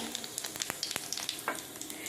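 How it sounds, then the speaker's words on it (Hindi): Hot oil sizzles and crackles steadily in a wok as spices are tempered, with sharp pops and spits scattered throughout, close up and with no talking. "अब मैं तड़का लगाती हूँ। मैं तेल डाल दी हूँ कढ़ाई में"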